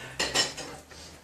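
Metal cutlery clatters against a frying pan in a home kitchen, two sharp clinks close together followed by lighter scraping taps, close and fairly loud.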